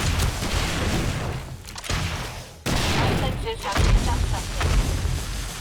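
Frag rocket launcher firing repeatedly in 7 Days to Die with the Darkness Falls mod: a barrage of loud launches and blasts in quick succession, dense and booming, with a voice talking under it.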